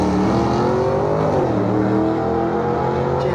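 Two drag racing cars, a Land Cruiser and an EH, launching at a dragway, loud sustained engine roar with rising then dipping revs, close and continuous.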